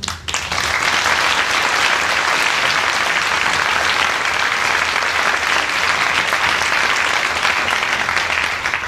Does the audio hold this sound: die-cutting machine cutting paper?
no